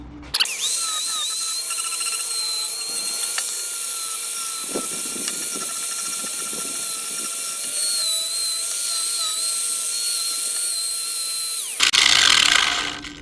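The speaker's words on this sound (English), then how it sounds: "At least I didn't forget to unplug it when I went to work with the grinding wheel." An electric grinding wheel working on a homemade motorcycle camera mount, a loud steady high whine running for about twelve seconds with faint shifts as it bites the metal, then cutting off abruptly.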